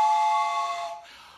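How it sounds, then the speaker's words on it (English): A toy train whistle blown in one long, steady, shrill tone at a children's home theatre, loud and close at first, then fading and thinning toward the end, with no talking. "I'm going to blow my whistle again."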